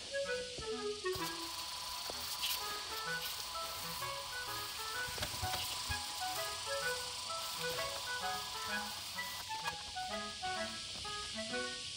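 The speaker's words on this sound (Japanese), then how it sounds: "高圧洗車機で足回りを洗っていきます" A high-pressure washer sprays the underside and wheels of a Husqvarna Svartpilen motorcycle, a steady close hiss with shifting spray noise that continues throughout, alone with no talk.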